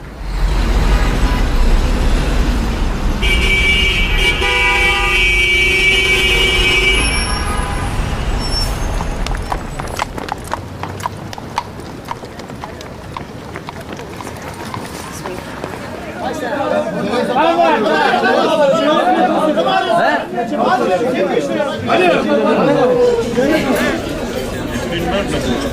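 New York City street ambience: a busy mix of horse hooves clip-clopping, a hissing air brake, passing traffic and a crowd chattering, with vehicles and voices swelling and receding throughout.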